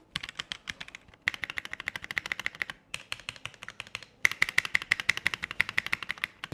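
Rapid clicky keystrokes come from a Kreo Hive 65 mechanical keyboard, typed in four bursts separated by brief pauses, close and crisp, with no talking.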